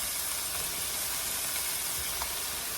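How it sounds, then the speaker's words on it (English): Shrimp sizzle in warm olive oil in a pan, a faint, even hiss that carries on steadily with no other sounds standing out. "You want that nice sizzle."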